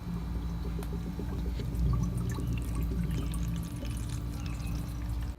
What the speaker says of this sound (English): allows the water to just flow down